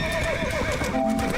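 A horse from the video game Red Dead Redemption: Undead Nightmare gives a long whinnying neigh over a dense game soundscape with hoof clip-clops beneath it.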